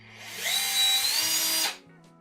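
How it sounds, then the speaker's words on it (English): A small handheld drill whines steadily at high pitch for about a second as it bores into RC car tires, then spins down and stops; loud and close, no voices. "I have a really small drill here, so yeah, let's sacrifice some tires"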